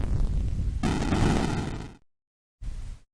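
An artillery explosion in the game Armoured Commander: a loud, rumbling blast with a crackling burst that cuts off sharply, then a short second boom after a brief silence.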